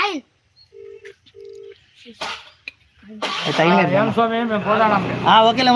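A phone rings back twice through a speaker, then a voice answers and talks continuously with a thin, tinny phone-line quality.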